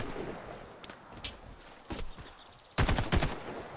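In the video game Warface, gunfire sounds as sharp isolated shots and then a closing burst of rapid automatic fire from an XM8 light machine gun, over quiet background game noise.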